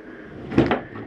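The shower door of a 2023 Flagstaff Classic 832IKRL RV slides shut with a short, close rumbling swish and a soft knock, heard alone.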